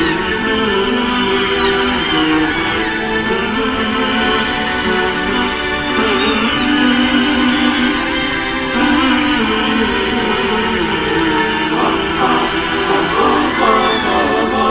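A small kitten meows repeatedly, high and plaintive, in a rhythmic series of cries heard close and loud over a steady background hum.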